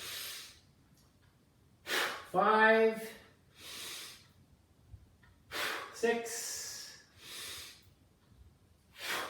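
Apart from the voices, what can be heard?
heavy breathing during dumbbell pullover exercise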